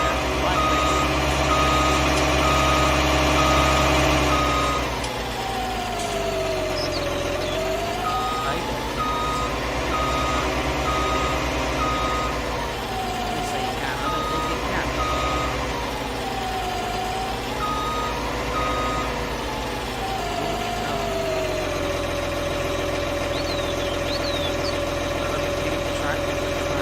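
A tractor engine drones steadily in Farming Simulator 19 while reversing beeps repeat in an even, insistent rhythm. The engine pitch rises and falls in smooth sweeps, and a voice talks over it.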